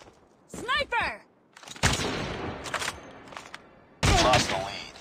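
Sniper rifle fire in a video game comes as a few sharp, loud bursts separated by short gaps, mixed with a game voice calling out.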